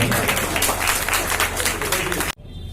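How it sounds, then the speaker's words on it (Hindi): Loud, dense applause from a crowd at a traders' event in Jaynagar honoring the chief guest, continuous clapping that cuts off abruptly near the end. "कृपया जोरदार तालियों से इनका स्वागत करेंगे"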